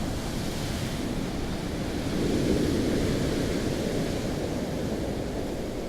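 Waves break on the shore at Bridport as a broad, continuous wash of surf. It swells slightly in the middle and is mixed with wind rumble against the microphone.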